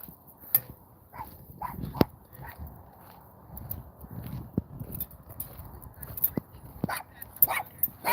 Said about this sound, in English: he's getting attacked by little dogs